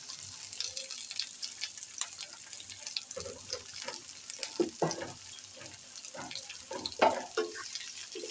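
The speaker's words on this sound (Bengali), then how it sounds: "মাছ ভাজার যে তেলটা আছে ওর মধ্যে আমি পেঁয়াজটা দিয়ে দিব" Onions go into hot oil left from frying puti fish and sizzle steadily while being stirred, with scraping spoon strokes and bursts of crackling close by, no voice.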